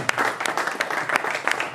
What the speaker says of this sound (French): Est-ce qu'on peut encore applaudir pour les ministres,